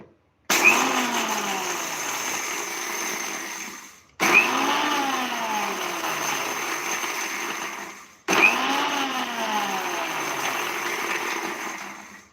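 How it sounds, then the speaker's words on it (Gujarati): A mixer grinder jar roars in three pulsed bursts of about four seconds each, coarsely grinding samosa filling, switching off sharply between runs. "એ આપણે મિક્સર જારમાં ચાલુ બંધ ચાલુ બંધ કરી અને દર દરો પીસશું"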